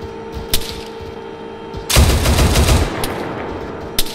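An M1 Abrams tank in ARMA 3 fires, a single heavy blast that erupts midway and rumbles off, preceded by faint mechanical clicks and a steady engine hum.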